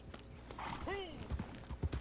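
Horse hooves clip-clop in Red Dead Online, a few close thuds near the end after a short whinny, with someone talking over them.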